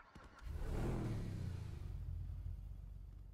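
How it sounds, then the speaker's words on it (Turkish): A Maserati Levante Novitec SUV engine in a role-play driving game swells in with a deep revving rumble, peaking loud after a second and then settling into a steady low drone. "Maserati Levante Novitec geliyormuş."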